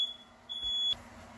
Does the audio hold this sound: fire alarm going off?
yes